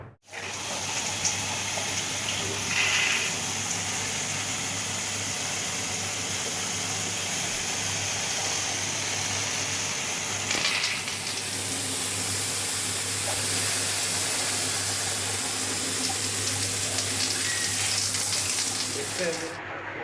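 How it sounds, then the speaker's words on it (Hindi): Steady, loud water spray under pressure washing the back of a window air conditioner during home servicing, a continuous hissing gush lasting about twenty seconds with a brief change in flow midway. "और पानी इस तरह मारना है प्रेशर बना के"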